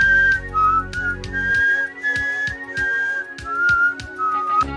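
Someone whistles a simple melodic tune, clear and close, with sharp intermittent clicks and taps sounding alongside it.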